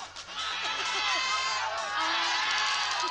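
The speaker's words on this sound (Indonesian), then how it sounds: "mana nih suara pendukungnya Salma" Supporters of an Indonesian Idol contestant shout and cheer continuously, with high whoops and excited yells blending into a loud, sustained roar.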